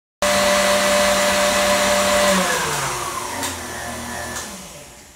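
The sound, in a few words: electric stand mixer beating cupcake batter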